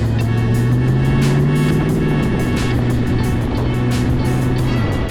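A Ford Explorer 5.0 V8 swapped into a '68 Mustang runs steadily at idle, a loud, continuous low engine drone with a constant hum throughout and no voices.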